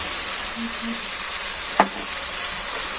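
Rohu fish curry with cauliflower and lentil dumplings frying in a pan, giving a steady close sizzle throughout with a brief clink of a stirring utensil partway through.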